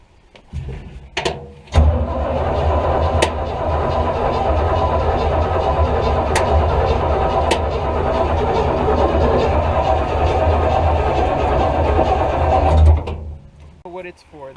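An old mud truck engine with a carburetor turns over after a couple of brief cranking bursts, then catches and runs loud and steady at a rough mid-pitched idle for about ten seconds before cutting back, with occasional voices underneath.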